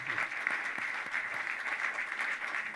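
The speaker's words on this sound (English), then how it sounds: "let's get a round of applause for you two gentlemen first" Audience applause at a talk at the Nixon Library, steady and fairly faint, a continuous patter of many hands clapping throughout with no voices over it.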